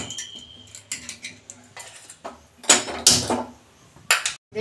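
Lid coming off a pressure cooker after cooking chana paneer, heard as a cluster of metallic clanks and clatters, with a loud rattling burst midway and another clink near the end, up close with no talk.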